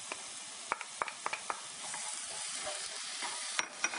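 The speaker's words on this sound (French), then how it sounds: "Vous déposez le quinoa que vous allez faire revenir un tout petit peu." Quinoa toasting in a hot pan, a steady close sizzle punctuated by sharp little pops and scrapes of stirring, no voices.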